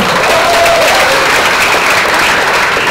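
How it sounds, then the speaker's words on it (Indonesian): A lecture audience applauding, a dense, loud wash of clapping that holds steady throughout with no speech. "Tepuk tangan dong."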